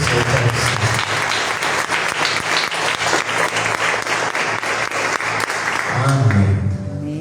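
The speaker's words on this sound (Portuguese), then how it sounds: "aplaudam o Senhor de todo o seu coração" A church congregation claps loudly and steadily for about six seconds in a large room, then the applause fades and someone speaks over the last scattered claps.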